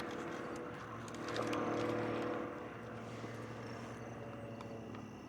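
Aerobatic propeller plane in an unlimited freestyle competition performing a tail slide, a steady distant engine drone that swells briefly then eases off.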